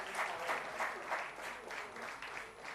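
A seminar audience claps in a soft, distant round of applause, the claps blurred together at a low, even level with faint voices underneath.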